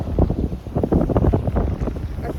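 Strong waves wash against the rocky shore at Whytecliff Park in West Vancouver, a steady loud surging roar buffeted by gusty wind across the microphone, with no talking.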